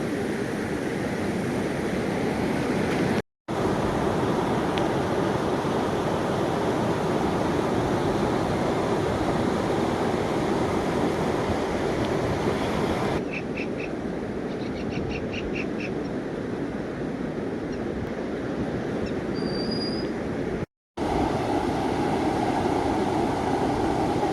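Floodwater of the Moj river surges from the overflowing Moj dam, a loud, continuous broadband roar with no breaks except two brief cut-outs, steady and close throughout.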